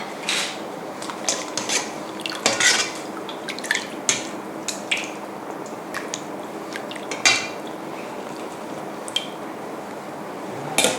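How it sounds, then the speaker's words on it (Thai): Cooked sago is scooped from a pot into a bowl of cold water, with close spoon-on-metal clinks, soft wet plops and drips spread unevenly over the span and no speech. "ตอนนี้สาคูสุกแล้วนะคะ เดี๋ยวเราก็ จะตักใส่ น้ำเย็นนะคะ"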